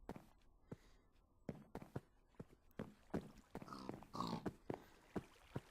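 A Minecraft pig grunts and oinks in short bursts among rhythmic game footsteps and other sharp clicks, all fairly quiet and close.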